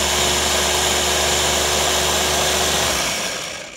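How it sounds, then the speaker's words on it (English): A blender whirs loudly and continuously blending soup vegetables, a dense motor roar that winds down and fades near the end. "I'm going to come back to my blender and give this one final blend"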